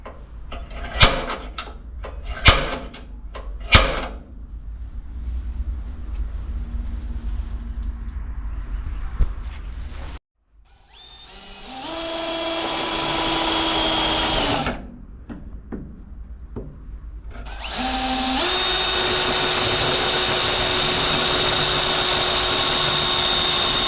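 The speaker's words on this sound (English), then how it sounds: "I'm just gonna tap it and then drill it" A drill bores out spot welds on a truck radiator support during lowrider paint prep, coming as loud sustained whining runs after a few sharp taps, with pauses between the drilling bursts.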